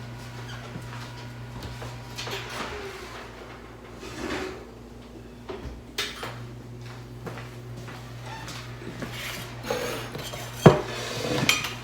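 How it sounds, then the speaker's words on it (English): Baking pan taken out of an oven for cornbread, with scattered clunks and knocks of metal and an oven or cupboard door, moderately close amid faint kitchen hum, no talking. "Let me get my pan out of the oven here."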